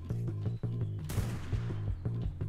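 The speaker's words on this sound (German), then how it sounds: "Ah, wir werden wieder besniped." Sniper gunfire in the video game ARK Genesis 2 comes as a sharp, loud crack that stands out against a dense, rhythmic background of other game sounds and music.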